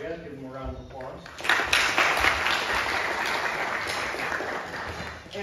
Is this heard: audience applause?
yes